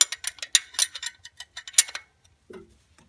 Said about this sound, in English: Now you want to actually turn it counterclockwise, and that'll slack the bolt.